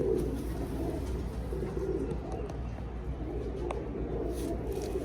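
A red-eyed racing pigeon at a pigeon-flying competition coos softly amid a steady low background hum, with faint rustling and distant sounds.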